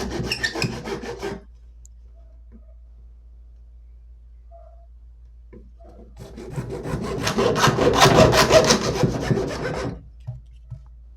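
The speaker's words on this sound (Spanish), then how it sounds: "Vamos a cortar con este tubo PVC de media pulgada 2 pedazos." Half-inch PVC pipe is sawn by hand in two separate passes, a short burst of rasping strokes first, then after a quiet pause a longer, louder stretch of steady back-and-forth cutting close by.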